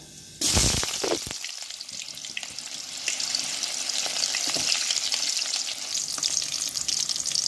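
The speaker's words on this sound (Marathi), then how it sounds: "चमचाभर तेल, त्यामध्ये जिरा मोहरीचा तडका द्यायचा आहे आणि कांदा ॲड करायचा आपल्याला." Cumin, mustard seeds and onion hitting hot oil for a tempering: a sudden loud burst of sizzle, then steady crackling frying with scraping stirs, heard close and alone.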